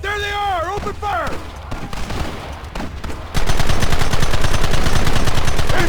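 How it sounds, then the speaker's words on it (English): Gunfire erupts in a Red Dead Redemption shootout, a dense run of rapid shots starting partway through after shouting voices, loud and sustained to the end. "There they are! Open fire!"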